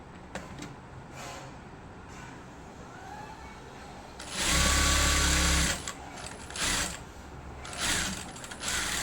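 A sewing machine stitches a blouse with a boat neck and deep front neck, humming and clattering in short runs, with a louder, faster burst of stitching near the middle and brief pauses between runs.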